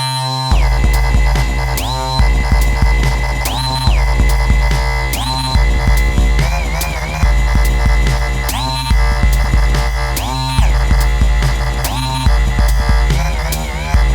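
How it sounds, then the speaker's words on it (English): Heavy wavetable synth bass from Massive layered over an Operator sub and a dubby breakbeat, loud and continuous, with repeating rising and falling pitch sweeps riding over punchy drum hits across the whole passage. "the entire output is being balanced nicely alongside a dubby break to produce a very, very big tone"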